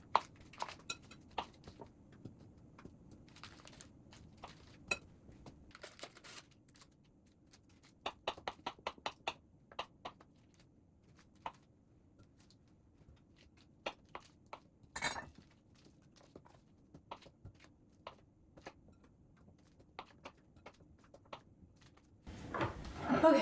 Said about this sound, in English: I'm gonna chop up my butter into this chocolate to small amounts.